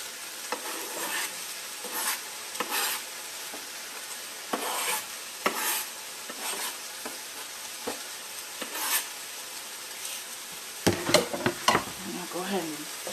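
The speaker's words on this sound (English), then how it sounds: "I'm going to add in the noodles." Noodles are stir-fried in a hot pan, giving a steady sizzle with repeated scraping strokes of a utensil against the pan, close and fairly quiet, and busier stirring near the end.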